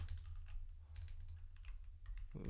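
Rapid typing on a computer keyboard, a steady stream of light key clicks with a low hum underneath, no voices.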